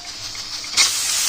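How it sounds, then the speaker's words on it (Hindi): A kitchen pressure cooker vents steam as its whistle weight is lifted off. Low background noise gives way to a sudden, loud hiss that continues steadily to the end. "चलें अब ज़रा कुकर प्रेशर का निकालते हैं सीटी"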